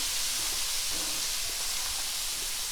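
Shrimp sizzling in butter in a pan previously used for steaks, giving a steady, bright hiss that stays even and continuous throughout, close by with no talking.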